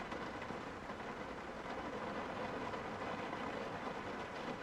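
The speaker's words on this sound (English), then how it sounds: "I'm curious if this rain is going to continue." Nighttime rain in Project Zomboid is a faint, steady hiss of rainfall that holds unbroken throughout with no talk.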